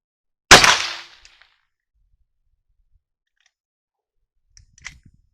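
A .38 handload fired into a bullet trap: one sharp, loud shot with a short decaying tail, then quiet, with a few faint clicks and handling noises near the end.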